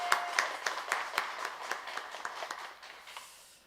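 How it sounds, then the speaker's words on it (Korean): A Sunday church congregation gives a short burst of rhythmic applause in praise to God, distinct claps in a steady beat that thin out and fade toward the end. "하나님께 영광의 박수 올려드리겠습니다"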